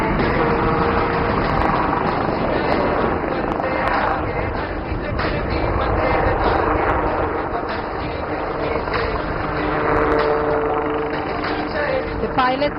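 HAL helicopter doing rearward flight at the Aero India air show in Bangalore, a continuous loud rotor and engine drone with a steady whine, mixed with crowd noise and a commentator's voice over the loudspeaker.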